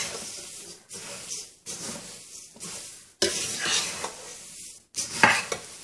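Rice Crispy cereal chivda snack being mixed and tossed, bursts of crisp, rattling rustle separated by short pauses, fairly close and with no talking.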